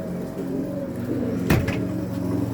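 Two domestic pigeons in a coop coo softly and steadily at close range, a low rolling murmur with one sharper flutter or knock in the middle.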